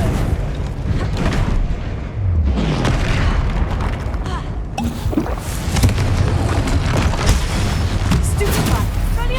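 A Confringo fire spell bursts in Hogwarts Legacy with heavy booming blasts that roll on steadily and loudly, the explosions layered over continuous battle noise.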